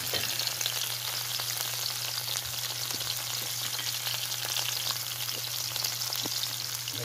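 Garlic and tomatoes frying in a pan for a clam sauté, a steady close sizzle with faint crackles and a low hum underneath, continuous and unbroken, with no talking.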